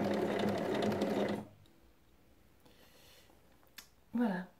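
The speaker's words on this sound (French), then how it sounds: "on coud tout le tour en laissant une ouverture de 8 cm" Sewing machine stitching around the edge of a fabric basket, a fast steady mechanical whir for over a second that then stops, followed by quiet handling noises and a short burst of a voice.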